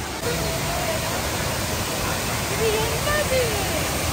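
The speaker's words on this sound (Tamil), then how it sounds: "இது வாட்டர் ஃபால்ஸ்." Thirparappu waterfall pours as a loud, steady, broadband roar close by, while people talk over the rushing water.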